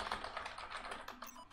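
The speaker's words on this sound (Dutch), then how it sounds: "Ik denk dat ik echt zo snel kan typen." Rapid typing on a computer keyboard during play of Superhot, a quick run of light, close clicking keystrokes over about a second and a half.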